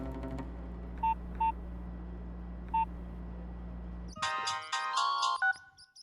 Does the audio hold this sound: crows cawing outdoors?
no